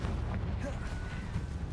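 Confringo fire spell blast in the Hogwarts Legacy game, a dense rumbling burst sustained through the moment with no speech.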